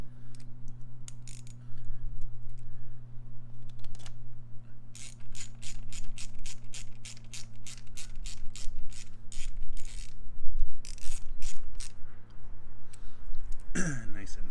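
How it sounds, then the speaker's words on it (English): A ratchet wrench tightens a bolt back in on a Ford Focus ZX3, with rapid clicking bursts in repeated runs, close and fairly loud over a steady low hum, with brief voice sounds near the end. "Go ahead and screw it back in."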